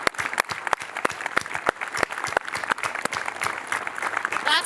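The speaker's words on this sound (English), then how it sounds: "let's give an applause for that" Sustained audience applause at a high school senior graduation ceremony, many hands clapping steadily at moderate loudness throughout, with a few sharper individual claps standing out.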